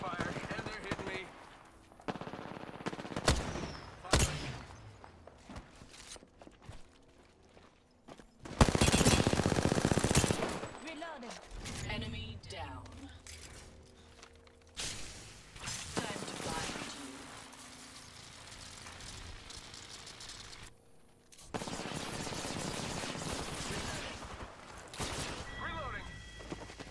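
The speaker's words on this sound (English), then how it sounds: "Shot fired. And they're hitting me." Bursts of automatic gunfire in Apex Legends, several separate volleys of rapid shots with sharp loud peaks and short quiet gaps between them, mixed with game announcer voice lines.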